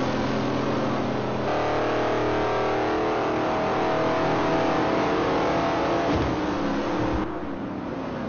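A number 88 Chevy Nova (Chevy II) race car in a historic Trans Am race at Sears Point, its engine revving hard and accelerating through gears, loud and close with shifts in pitch, no talk.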